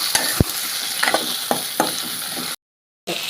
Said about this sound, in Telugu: మనం బెండకాయలు కూడా వేసుకొని ఫ్రై చేసుకోవచ్చు